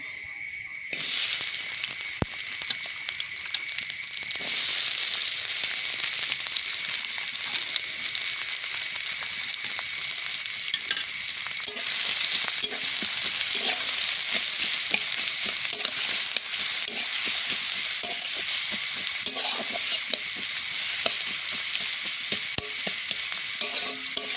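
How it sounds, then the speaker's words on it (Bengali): Onions fry in hot oil in a wok in a village kitchen, a sustained loud sizzle with scraping stirs and clinks throughout, crackling intensifying after the onions go in. "পেঁয়াজটা ভাজা হতে থাক।"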